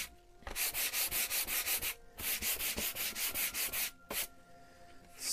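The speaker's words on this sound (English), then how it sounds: "So, I just give my canvas board an extra little sanding." Hand sanding of a gessoed canvas board: rapid rhythmic back-and-forth scratchy strokes in steady bursts, close and fairly loud, with brief pauses between runs and no talking.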